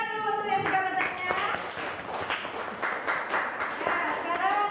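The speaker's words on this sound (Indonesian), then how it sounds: "Tepuk tangan dulu untuk yang sudah bertanya." Students clapping in a school classroom, a lively burst of hand claps from a small group, with sung or voiced tones mixed in at the start and a voice audible over the clapping.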